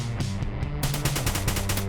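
Rapid automatic gunfire at a shooting range in Afterconflict, a Cold War indie shooter, loud close bursts of shots in quick succession, no talk.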